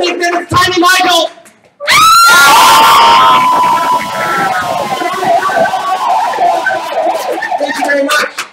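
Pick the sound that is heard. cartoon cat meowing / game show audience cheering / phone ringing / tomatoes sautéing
game show audience cheering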